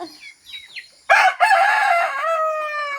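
A rooster in a backyard flock of hens crows loudly and close by in one long harmonic call, after a few soft chirps and clucks.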